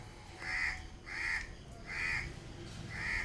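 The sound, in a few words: crows cawing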